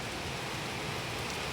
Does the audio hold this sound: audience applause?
no